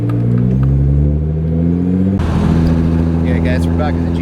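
A Nissan GTR's engine rumbles steadily while cruising, a loud, low droning hum that holds a constant pitch with a brief shift partway through.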